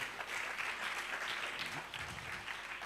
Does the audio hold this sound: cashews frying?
no